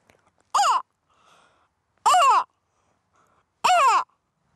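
A person on the Baie de Somme coast imitates a gull's call, producing three loud, separate descending cries spaced over a few seconds with near silence between them.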